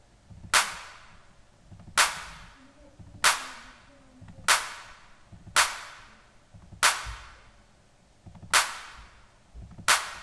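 Programmed drum machine claps in MULab, eight sharp, evenly spaced hits about every second and a half, each with a short decaying tail, loud and alone.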